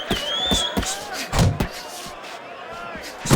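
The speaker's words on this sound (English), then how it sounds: "a two-punch combination landing" Punches thud in the Fight Night Champion boxing video game: a handful of sharp, close impacts land in quick pairs over crowd ambience while a commentator talks throughout.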